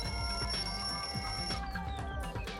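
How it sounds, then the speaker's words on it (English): A wall clock alarm in the lounge of Danganronpa 2: Goodbye Despair rings continuously with a bright, steady metallic bell tone, loud and close, with no voices. "The lounge's wall clock alarm started ringing at 5:30."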